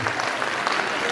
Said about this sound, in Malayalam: കയ്യടി വേണം